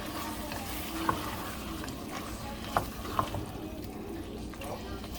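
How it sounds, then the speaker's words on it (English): Fire-roasted tomatoes are stirred into a pot of Cajun jambalaya: a low, wet bubbling sizzle with a few sharp spoon clinks against the pot, and a faint voice in the background. "add in the fire roasted tomatoes. Give that a good stir"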